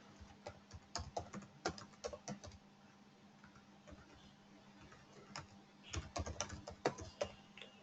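Password being typed on a computer keyboard, irregular bursts of quiet key clicks in clusters with short pauses between, close and faint, no talking.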